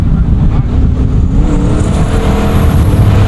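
A 1,250 HP Ford Raptor pickup truck accelerates hard, its engine roaring loud and continuous at close range, with no talk over it.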